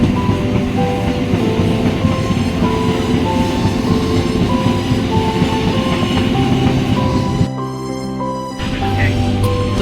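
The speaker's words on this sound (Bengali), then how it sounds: "ট্রেনটা খুব স্পিডে চলছে" A fast passenger train on the Nalhati to Azimganj line heard from inside, a loud continuous rumble with rapid clickety-clack of wheels and a brief dip in the roar near the end.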